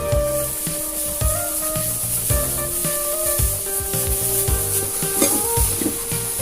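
A large batch of tofu scrambled and fried in a pan, Caribbean style, with a steady loud sizzle and regular scraping strokes of a utensil stirring and breaking it up.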